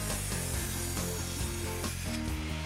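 A saw cuts through a wooden 4x4 post in steady, close, back-and-forth strokes, a continuous rasping with rhythmic pulses and no speech.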